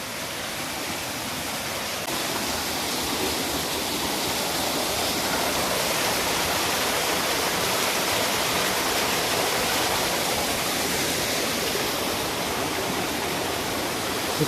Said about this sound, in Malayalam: ആ വെള്ളച്ചാട്ടം നമ്മുടെ കൺമുന്നിൽ.